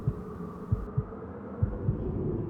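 Heartbeat from the horror game The Evil Within, a low muffled thumping that comes in regular paired beats over a steady droning hum, with no talking.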